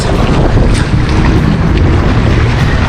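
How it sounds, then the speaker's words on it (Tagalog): Strong wind at sea buffets the microphone on a fishing boat as a continuous, loud, roaring rush with no pauses, drowning out everything else. "tapos yung hangin po malakas"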